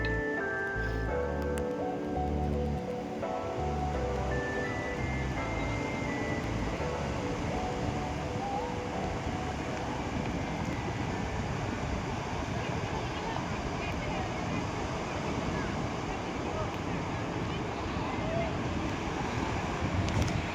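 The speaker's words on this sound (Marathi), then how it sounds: "आता आपण आहोत दिव्यागर बीचला" Wind and sea waves at Diveagar beach on the Konkan coast make a dense, continuous roar with heavy wind buffeting on the microphone, while voices speak over it.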